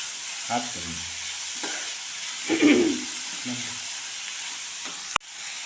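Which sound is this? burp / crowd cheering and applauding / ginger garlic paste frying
ginger garlic paste frying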